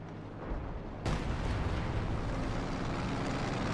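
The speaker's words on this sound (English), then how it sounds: "we're actually going to see that howitzer strike coming on in" A howitzer artillery strike in a WWII strategy video game lands with a sudden loud boom, then a sustained roaring rumble that carries on to the end.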